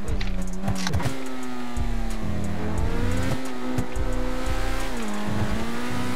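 A police car in a GTA RP game drives off, its engine revving in steady rising and falling pulses, loud and close, with no talk over it.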